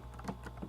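Someone types on a computer keyboard while entering a note into project-management software, giving a few soft, quiet keystrokes close to the microphone with no talking.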